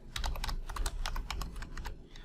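Rapid typing on a computer keyboard while entering course standards into an online form, a dense run of close, crisp key clacks with a brief pause near the end, no voices.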